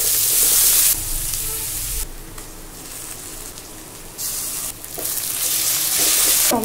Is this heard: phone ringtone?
no